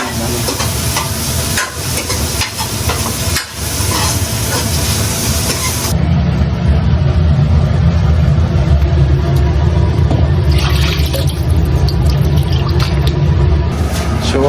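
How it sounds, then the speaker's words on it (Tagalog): Pot of tilapia soup on the stove as water goes in: loud, close sizzling and hissing with steam, then the sound drops to a softer, steady bubbling hiss. "nilagyan na ng tubig"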